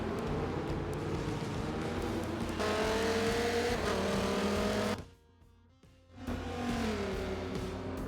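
Race car engines in Forza Motorsport 7 at Yas Marina, a loud steady drone of several cars with shifting pitch and gear changes, briefly dropping away for about a second before the roar returns.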